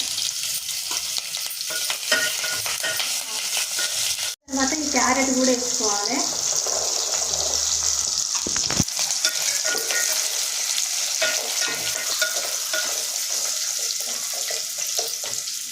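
Green chillies sizzle in hot oil in a pan for bagara rice, a steady broadband frying hiss throughout with a brief dropout near the start, quiet voices murmuring underneath.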